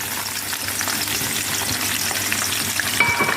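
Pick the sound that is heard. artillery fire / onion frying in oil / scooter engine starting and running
onion frying in oil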